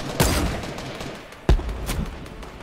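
Gunfire in a Fortnite match: two sharp, loud shots about a second apart, each trailing into a short rumbling decay, with no talk over them.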